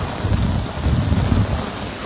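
Rain falls at a bus stand, a steady close patter and wash of water with a low rumbling undertone, continuous throughout with no talk.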